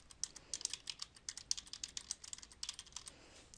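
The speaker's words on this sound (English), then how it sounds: "I'm going to type in a few things" Rapid typing on a computer keyboard while entering a short list of names into a text box editor, a steady patter of light key clicks at close range with no talk.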